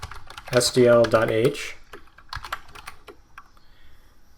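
Brief talking, then scattered, uneven keystrokes on a computer keyboard as C++ code using SDL is typed, close and moderately quiet.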